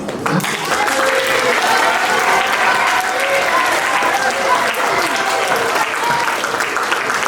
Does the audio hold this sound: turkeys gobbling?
no